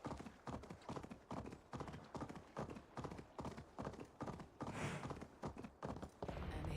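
Horse hooves clip-clop steadily and close in Assassin's Creed Valhalla, a rapid even rhythm of many footfalls as the horse trots across a bridge, heard alone throughout.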